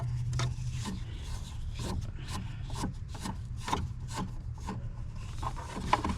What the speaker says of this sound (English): I'm just using a screwdriver with a bit driver in it, a T20 bit in it.